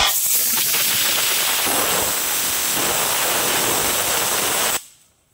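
A pressure cooker hisses steadily while goat meat cooks inside, a loud continuous jet of steam that cuts off abruptly near the end.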